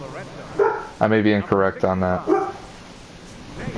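A dog barks several times in quick succession nearby, loud harmonic yaps clustered over a couple of seconds, with someone talking in the background.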